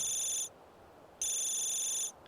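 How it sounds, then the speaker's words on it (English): A mobile phone in The Sims 3 rings in two short electronic trill bursts separated by a brief pause, clear and steady, with no voices. "Oh, his phone's ringing."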